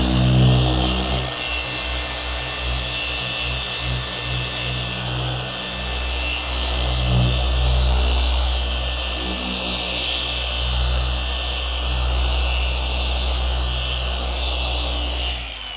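A Rupes polisher buffs the paint along a car's edge, its motor producing a loud, steady droning hum with a fluctuating whir as the pad works across the panel, uninterrupted for the whole stretch.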